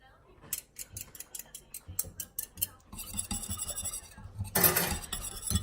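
A small whisk clinks and scrapes rapidly against a pan, loud bursts of rattling metal strokes with brief pauses and a faint voice underneath, used while making a cola cake.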